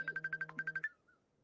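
A mobile phone rings in a quiet room with a rapid electronic trill, about ten quick pulses, then stops abruptly and leaves a faint tail; no one talks.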